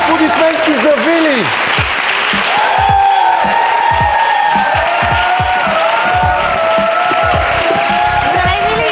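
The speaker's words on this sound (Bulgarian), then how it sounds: "Аплодисменти за Вили!" Studio audience at a Miss Bulgaria beauty pageant applauds and cheers loudly and continuously, with shouting voices and whoops rising over the dense clapping.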